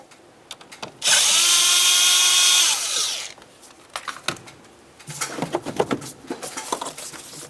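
Power tool fitted with an 8mm socket loosens a clamp while an alternator is being replaced on a 2006-2010 Ford Explorer: a loud, steady whir of about two seconds, then scattered clinks and rattles of metal parts nearby.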